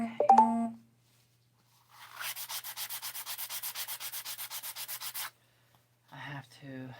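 Harder sandpaper rubs over thick layers of gesso on a handmade cloth doll, a steady run of quick back-and-forth strokes lasting about three seconds, close to the microphone, with brief faint sounds before and after.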